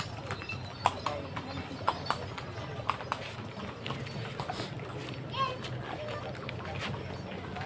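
Hooves clip-clop on a horse ride at a lakeside tourist spot, a steady paced rhythm of sharp knocks close by, with people talking and children's voices in the background.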